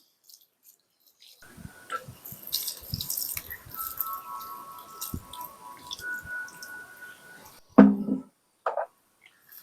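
Water trickles and drips into the soil of a potted baobab bonsai grown from seed, a soft steady dribble lasting several seconds, ending in a few louder splashes and handling noises close by.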